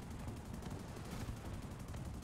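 Rapid aircraft machine-gun fire in the combat flight game War Thunder, a dense continuous burst with no pauses, low and heavy, with no talking.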